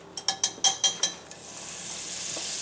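Butter dropped into a hot deep frying pan, several quick clattering taps of a spoon against the pan, then a smooth rising hiss of sizzling fat.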